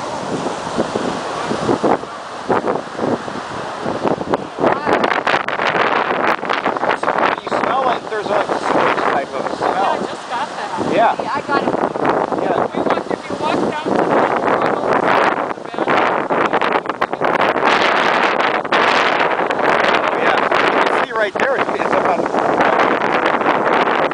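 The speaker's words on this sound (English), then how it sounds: "It's so windy." Strong stormy wind roars across the microphone on the Newport, Rhode Island coast during an October storm, with surf washing underneath and people talking amid the gusts.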